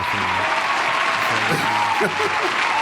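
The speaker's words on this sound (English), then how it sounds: "let me give J.O. a round of applause" A small group gives a steady round of applause for a guest, a continuous wash of clapping throughout with voices talking over it.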